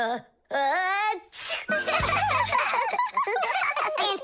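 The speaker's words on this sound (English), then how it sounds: "but then his nose tickled and achoo" A cartoon character sneezes, with a quick gasping build-up and a burst, surrounded by playful high-pitched giggly vocal sounds from animated characters.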